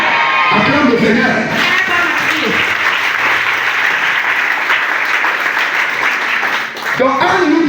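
A church congregation at a French-language deliverance prayer service claps and cheers in sustained, loud applause, with shouts and voices mixed through the crowd noise throughout.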